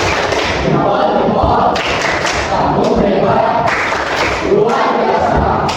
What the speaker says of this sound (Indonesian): Kita berikan tepuk jempol untuk kelompoknya.